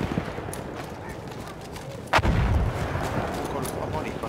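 Battlefield 1 gunfire rattles through a dense multiplayer battle near a bridge, with a sharp loud blast around the midpoint and continuous crackling shots underneath, while players talk over the din.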